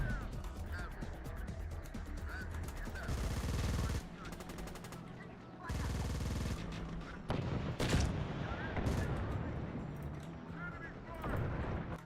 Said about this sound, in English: 90mm cannon.